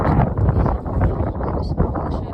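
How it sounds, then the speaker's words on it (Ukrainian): Strong wind buffets the microphone in a steady, heavy low rumble that continues throughout, with gusty surges and no clear talk. "у нас досить такий сильний вітер, але він теплий"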